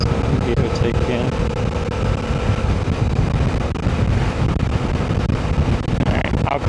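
Wind buffets a rider with the visor up on a Suzuki V-Strom 800DE motorcycle, a loud continuous roaring rush over the engine on a country road, with someone talking.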